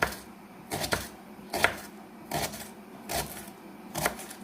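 Onion being chopped on a cutting board while cooking porridge in a home kitchen, five separate bursts of knife strokes against the board spaced about a second apart, close and moderately quiet with no talking.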